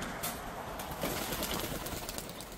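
Pigeons being readied for a racing loft release, heard as faint, low cooing and soft rustling with a brief hint of wing flaps, set against a steady hiss of background noise and no talk.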